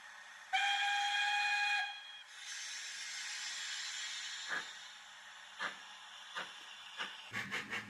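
A DCC sound-fitted Accurascale J67 'Buckjumper' model steam locomotive gives one clear, sustained whistle lasting over a second, then a long steam hiss, followed by a few soft chuffs and a quick cluster of clanks at the end.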